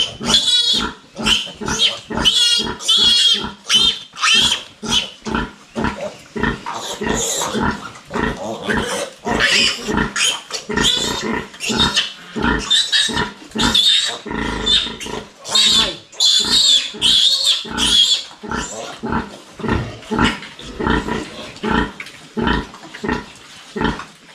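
Two-week-old piglets squeal loudly and continuously in a rapid string of sharp, overlapping cries that keep going throughout.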